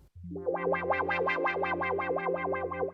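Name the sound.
keyboard synth with auto wah effect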